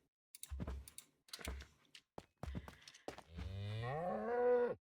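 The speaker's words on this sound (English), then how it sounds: "Look, they have horns. It's a cow." Cows lowing in a Minecraft modpack game: a few short clipped moos, then a long drawn-out moo that rises and swells, loud and close, with no speech.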